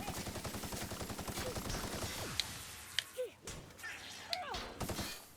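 Automatic cannon fire in The Outer Worlds rattles in a rapid, dense burst at first, then breaks into scattered single shots, impacts and game effects.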